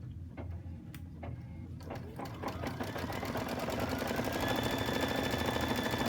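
A Luminaire embroidery machine stitches out a design, starting with a few separate needle strikes and then settling into a fast, steady, loud mechanical rhythm with a rising whine, close by and without talk.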